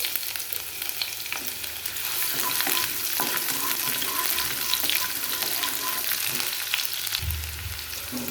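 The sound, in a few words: nigella seeds and onion tempering sizzling in hot oil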